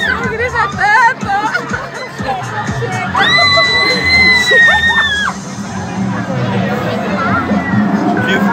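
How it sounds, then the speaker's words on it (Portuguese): A child screams loudly during a virtual reality experience, a long high shrill cry rising over excited shouting and crowd chatter close by, with adults talking throughout. "Não grita tanto."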